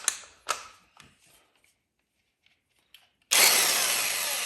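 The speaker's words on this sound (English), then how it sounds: "Make sure when you're using the impact," An impact wrench with a 32 socket hammers loose the clutch bolt on a Gen 2 Suzuki Hayabusa, a sudden loud burst close by after a few scattered clicks and clunks of the socket being fitted.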